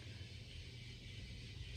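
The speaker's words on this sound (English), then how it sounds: "Is that somebody's car?" A low, steady rumble of a car heard faintly through thin walls from outside, a continuous droning hum with no talk over it.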